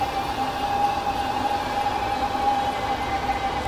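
Haarburg-Pendel train rushing by at 160 km/h in Train Simulator, a constant loud rail rumble carrying a steady high whine for several seconds, with no voices.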